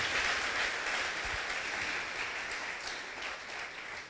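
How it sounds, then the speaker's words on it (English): An audience at a fireside chat with a car designer claps in a steady, broad wash of applause that gradually thins out, with no talking over it. "The applause says it all."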